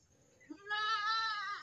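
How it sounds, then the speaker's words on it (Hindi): A baby goat left behind by the herd bleats for its mother, a single long quavering cry rising after a soft start, fairly close, outdoors at a village home. "ये देखिए, ये एक बकरी का बच्चा ना ये रह गया है, छोटा वाला बच्चा"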